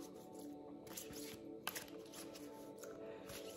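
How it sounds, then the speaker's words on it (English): A big stack of cards is shuffled, quiet riffling and soft flicks with a brief louder snap near the middle, close to the listener. "Shuffling the cards."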